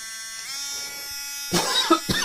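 An electric drill motor whirs with a steady, even buzz and no wobble, then a couple of brief louder bursts come near the end. There is no speech.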